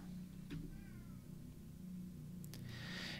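A cat meows a few times, short faint cries over a steady background hum, with no talking.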